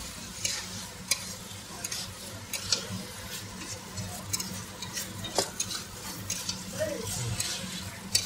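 A large katla fish head being sautéed for muri ghonto in a pan, a continuous close sizzle with frequent scraping and clattering strokes of a spoon stirring vigorously, and faint voices in the background.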